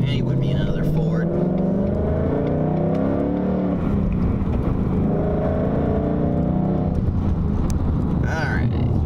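Engine and road noise from a 2018 Ford Mustang GT being driven on city streets, a steady low drone with a mild rise in revs partway through, heard from inside the car with a voice talking over it.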